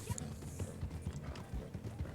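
Horse hooves clip-clop at a steady walking rhythm in the online western game Red Dead Online, quiet and regular, with faint speech-like sounds mixed in.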